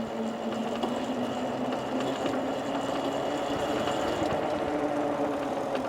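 A 4000W electric drift trike motor under gentle power, giving a continuous whirring hum with a rattling, mechanical texture that holds steady throughout.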